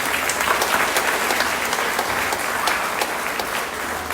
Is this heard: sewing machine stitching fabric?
no